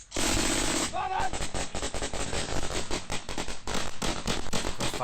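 Rapid, continuous machine-gun fire in a firefight between Danish forces and the Taliban in Afghanistan rattles loudly throughout, with dense bursts of shots and a brief shout partway through.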